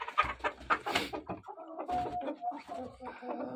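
Young hens kept apart in a pen cluck in a short burst of several quick, close calls, then fainter softer clucks trail off.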